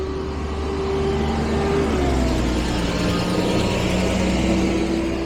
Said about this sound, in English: a garbage truck.